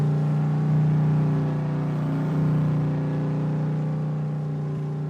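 Steady, loud droning of a farm truck engine running with no muffler, heard up close as a constant low rumble that swells slightly once or twice, with no talking.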